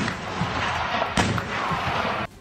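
Artillery guns in Ukraine firing shells with explosions in a war zone, a sustained loud roaring blast with a sharp burst near the middle before it cuts off abruptly.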